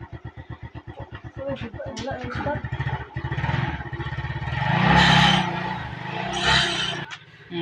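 A motorcycle engine putters in a rapid idle pulse, then revs up louder and holds a rough drone before cutting off near the end.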